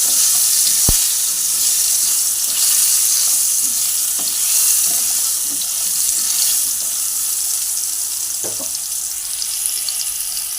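Potatoes sizzle steadily in hot oil for a Bengali aloo fulkopi dish, a loud, continuous frying hiss broken by a few sharp clinks of a stirring utensil.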